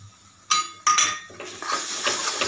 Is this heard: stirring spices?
yes